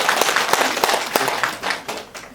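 An audience claps for monks at a Buddhist dharma talk in a Seoul meditation center, a dense, steady round of applause carried by many hands and held at an even level.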